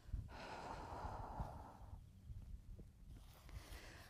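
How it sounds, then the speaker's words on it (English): A person breathes out through the mouth during a qigong exercise, a soft, airy exhale lasting over a second, then quieter breathing and faint rustles in a calm room. "breathing out naturally through the mouth"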